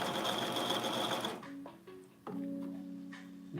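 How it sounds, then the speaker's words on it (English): A cover stitch sewing machine runs steadily and loud, then pauses briefly before stitching again at a steady hum with a faint ticking rhythm. "use my cover stitch machine so that way I can sew like kind of right down the middle"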